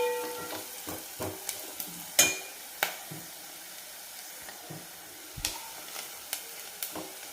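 Half a spoon of Byadgi chili powder sautéing in hot oil, a soft sizzle punctuated by irregular spatula taps and scrapes against the pan, one sharp clatter, no talk.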